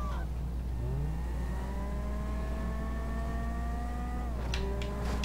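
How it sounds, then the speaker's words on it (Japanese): A car engine in the video game Grand Theft Auto 5 hums steadily with rising and falling pitch, revving up then dropping near the end, with a brief clatter at the close. "エンジン音が違うぜ。"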